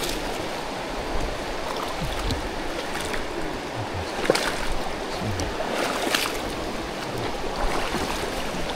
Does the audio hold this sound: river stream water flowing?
yes